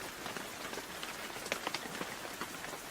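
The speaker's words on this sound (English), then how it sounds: "It started to rain." Rain falling steadily on a surface, a dense hiss of many small drops with occasional sharper patters, fairly faint and even throughout.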